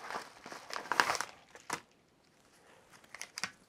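A paper envelope from a coin unboxing is opened up close, giving quiet bursts of crinkling and tearing paper separated by short pauses.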